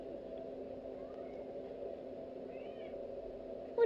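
A cat gives faint, soft meows over a steady background hum indoors, with a louder sound rising at the very end.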